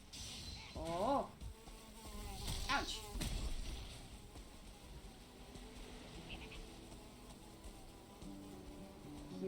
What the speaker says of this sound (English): I hear the buzzing, I do not see it.